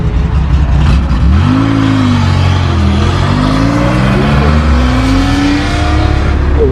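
A Porsche 911T revs hard and pulls away at a classic and sports car breakfast meet, its engine note climbing through several loud, sustained sweeps close by with no talk over it.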